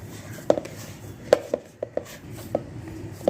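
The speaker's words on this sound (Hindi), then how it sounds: "अच्छे से इसको जैसे गूंदा जाता है डो को, ऐसे हम इसको अच्छे से गूंद लेंगे।" Wheat atta dough kneaded by hand for eggless biscuits gives a close, fairly quiet run of soft, irregular slaps and presses, about seven sharp taps over a few seconds over a low, steady background, with no talking.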